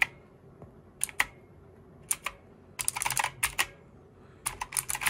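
Keys clack on a Pictek RGB mechanical gaming keyboard in irregular clusters of crisp, close presses separated by short quiet gaps, with no speech.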